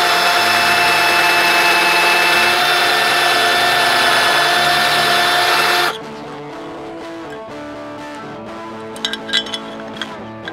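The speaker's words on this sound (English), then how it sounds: "So I'm going to put this drill bit through and give it some force in that direction." A power drill widening a hole in a guitar pedal build whines steadily at high speed, then drops to a lower grinding hum with a few metallic clinks toward the end.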